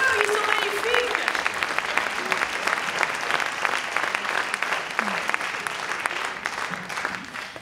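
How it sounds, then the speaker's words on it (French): Steady, dense applause from an audience for a choir dressed in green and blue at a concert, sustained clapping with occasional voices over it throughout. "On peut les applaudir encore!"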